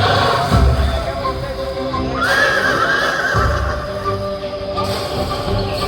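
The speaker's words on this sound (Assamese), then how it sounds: "এই নদীখনৰে পানী ফালি এজাক ঘোঁৰা দৌৰি আছে।" A herd of horses neighs and runs through river water in a staged forest scene at a Durga Puja display in Guwahati; loud whinnies rise over a steady mechanical rumble and clattering hooves, with no talk.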